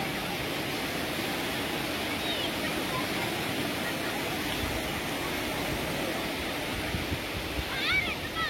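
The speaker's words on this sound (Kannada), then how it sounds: "ಆ ಸಮುದ್ರ ಸೌಂಡ" Sea waves break steadily on the shore at Murdeshwar, a constant broad roar of surf with no clear pauses between waves, and faint activity can be heard in the background.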